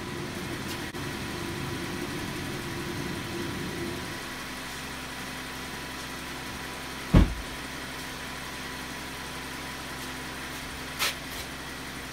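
A car engine idles steadily at a low, even hum, running quietly throughout with a couple of brief sharp clicks or knocks partway through.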